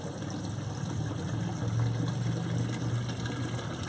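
Water from a tilapia tank pours steadily through a pipe into an aquaponics grow bed, a continuous close splashing gush with a low churning rumble and no talking.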